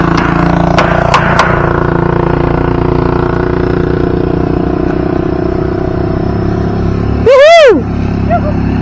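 A motorcycle passes nearby with a steady, droning engine note under a few sharp clacks early on. A short, loud rising-and-falling whoop cuts in near the end, and voices are present.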